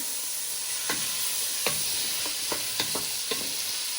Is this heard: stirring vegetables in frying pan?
yes